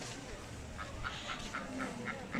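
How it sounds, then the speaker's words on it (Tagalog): Ducks quack in a short series of evenly spaced, nasal calls at moderate distance over a faint background murmur of an outdoor farm park. "Mag-enjoy siya sa bibe."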